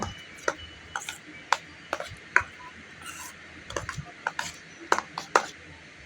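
Palm fruit pulp is mixed with rice flour in a bowl, producing sharp intermittent clicks and taps of a utensil against the vessel in an irregular rhythm, close and fairly quiet.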